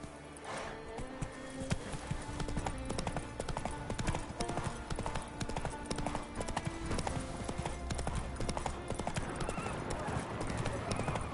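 Roach the horse galloping in the video game The Witcher 3: The Wild Hunt, rapid rhythmic hoofbeats with a whinny mixed into game sounds, with someone talking over them.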